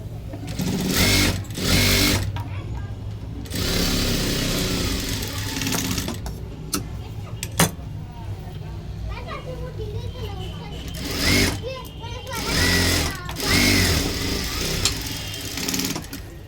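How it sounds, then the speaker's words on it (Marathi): Domestic sewing machine running in bursts while top-stitching a four-tuck blouse, with steady mechanical whirring that starts and stops several times; someone talks over it throughout. "आपण याला दापशिलाई मारून घेणार आहे"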